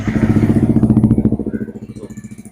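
A 150 cc Yamaha R15 V3 motorcycle engine warms up, a loud close rumbling idle with a rapid pulsing beat that eases slightly toward the end.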